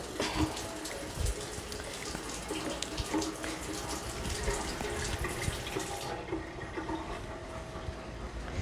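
Water runs steadily from a kitchen tap to change the soaking water for saltfish, a continuous splashing hiss that stays even throughout with no talking.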